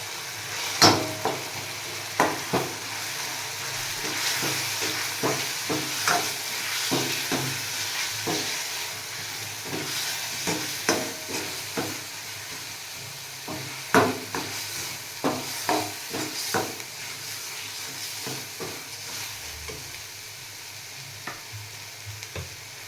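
Ground chickpeas for chole sizzle and are stirred in a pan, with steady frying hiss and repeated scraping spoon strokes at an irregular rhythm, close and moderately loud, with no talking.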